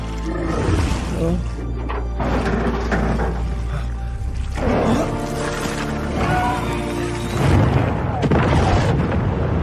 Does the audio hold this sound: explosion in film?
yes